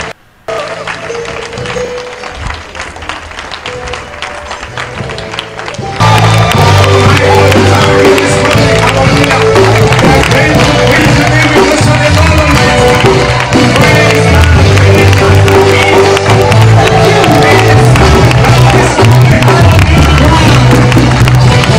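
A church crowd cheers and applauds loudly, a thick roar of clapping and voices that jumps up sharply after a few seconds and stays dense and sustained.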